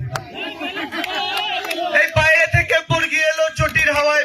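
A crowd at a political road show in Tamluk claps in a loose, repeated rhythm, sharp bursts falling roughly every half second beneath a loud chanting voice.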